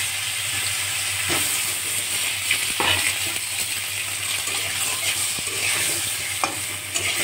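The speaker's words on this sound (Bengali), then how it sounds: "আলুগুলো আমি ভালো করে ভেজে নেব।" Boiled potatoes fry in oil in a pan for an egg potato curry, with a continuous hissing sizzle and a few scraping, clattering strokes of a spatula stirring them up close.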